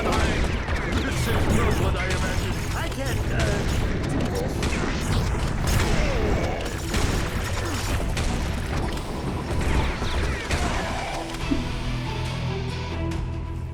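Dense gunfire in the Serious Sam 4 video game, rapid shots and booms layered with clanking mechanisms in a continuous loud barrage, with talk over parts of it.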